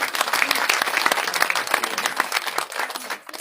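Loud, steady audience applause at a women's dialogue event on International Women's Day, many hands clapping densely throughout without a break and easing slightly near the end.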